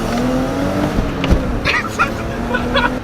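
A cheap BMW fitted with a performance chip and driving with its muffler deleted gives a loud, raspy exhaust drone that rises and falls, with a few bumps and knocks and brief voices over it.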